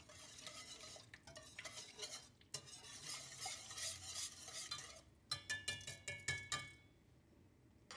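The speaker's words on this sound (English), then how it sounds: "And whisk that all together." Whisk stirring beef broth into gravy in a pan, a steady scraping and swishing near the mic, with a brief pause and then a burst of quicker metallic clinks against the pan.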